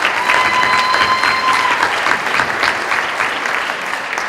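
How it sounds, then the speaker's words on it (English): Audience applause fills a community awards event in Central New York, a steady dense wash of many hands clapping, loud and sustained throughout. "So give yourselves a round of applause"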